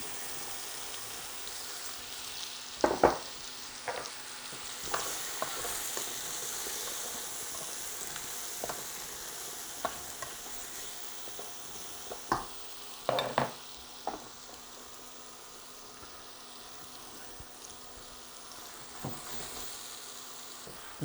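Potatoes and carrots sizzle quietly in a pan, with occasional scraping stirs and light knocks of the utensil breaking a soft, steady frying hiss.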